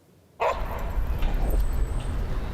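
Dogs at a downtown dog park in Toronto, heard as a steady outdoor din with a bark or yip near the start, spread over continuous background noise that lasts the whole stretch.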